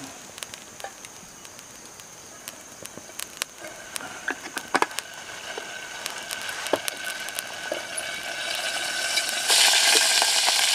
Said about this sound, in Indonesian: Nah, kita akan masukin minyak goreng.